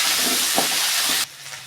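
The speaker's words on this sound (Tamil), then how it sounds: "நல்லா வதங்கிட்டுங்க சுண்டைக்காய்." Turkey berries sautéing in hot oil for a spicy tamarind curry, a loud steady hiss that runs through most of the moment, then cuts off abruptly near the end, leaving a quiet background.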